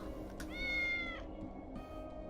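A cat meows in the video game Tales of the Neon Sea, giving one clear drawn-out meow followed by a shorter, fainter one over a low steady game hum.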